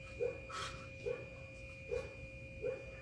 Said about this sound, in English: Can you hear the neighborhood dogs?